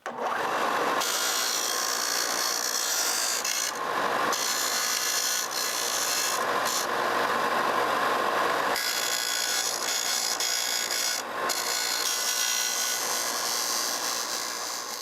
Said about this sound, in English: Let's go out to the disc sander and try to get it a little closer.